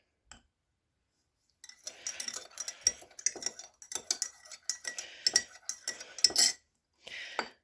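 A spoon clinks repeatedly against a new mug while stirring, a quick run of bright metallic taps and scrapes after a short silence, close and fairly loud, with a brief pause near the end.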